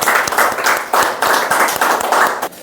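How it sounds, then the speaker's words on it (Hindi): An audience at an agarwood farming seminar claps loudly and close by, in a lively burst of applause with rhythmic surges. "तो पहला तो एक ज़बरदस्त ताली होना चाहिए आप लोगों के लिए"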